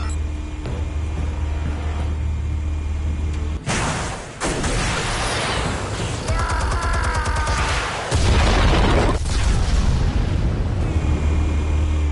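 Explosives detonating in a Batman video game on PlayStation 4: a sudden loud blast breaks a low droning background, followed by crackling debris and a second heavy boom, close and powerful.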